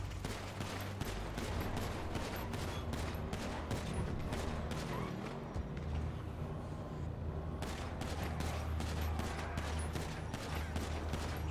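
Dense, sustained gunfire rattles through a firefight in the video game Homestate, with bursts of automatic shots and booms running almost continuously, easing briefly midway before picking back up at full intensity.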